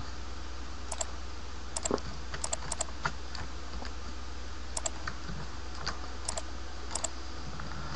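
Scattered, quiet computer keyboard key presses click in small bursts against a soft background hum, with pauses between groups of taps, during 3D modeling in Blender.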